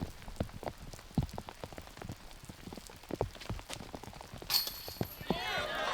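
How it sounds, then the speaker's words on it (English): Rain falling on a wooded disc golf course, a patter of scattered drops and taps striking surfaces nearby, fairly faint and uneven, with a brief brighter rush of noise near the end. "With all this rain that's coming in, the branches that you see are even lower than you usually see them."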